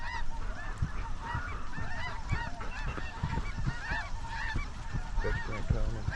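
Dense flock of geese honking continuously during a waterfowl hunt, a loud overlapping chorus of calls with low thumps and rustling beneath.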